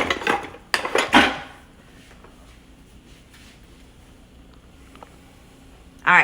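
A wooden spoon stirs mac and cheese in a pan: a few quick knocking scrapes at the start, then a quieter stretch, and another scrape at the end.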